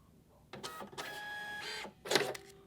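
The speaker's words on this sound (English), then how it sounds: "And that will send it down to the printer." A Brother QL label printer prints a label, with short whirring feed bursts and mechanical buzzing in three distinct segments separated by brief pauses, close and clear.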